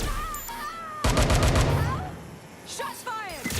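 Gunfire erupts in Watch Dogs Legion as a rapid burst of loud shots, followed by scattered echoing reports and a couple of later bangs over background game ambience.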